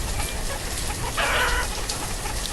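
Chickens clucking in the city-building game Banished, a short flurry of fowl calls over a steady noisy ambient bed, moderately loud and continuous.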